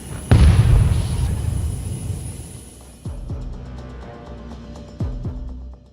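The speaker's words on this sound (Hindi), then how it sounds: "और लेफ्ट इंजन में एक धमाके के साथ आग लग जाती है।" A sudden loud boom as fire erupts in the left engine of a crashing Boeing 777 on the runway in Dubai, followed by a fading rumble and later sharp thuds and bangs.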